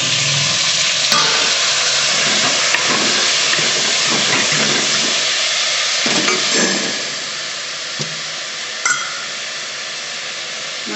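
Loud steady sizzling of green chillies, curry leaves and tomatoes frying in oil for hotel-style idli sambar, a close bright hiss with occasional stirring clatter, easing slightly near the end; no voices.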